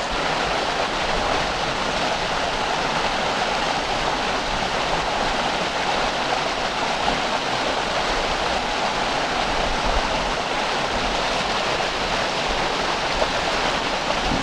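Rushing water from a waterfall or stream, a steady, loud broadband roar with no pauses or variation, heard alone without any voices throughout.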